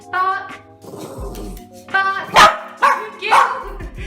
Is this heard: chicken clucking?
no